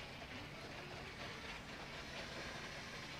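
A Lego toy train runs continuously along its track in a steady, faint rumbling whir with no distinct clicks, holding a constant level throughout.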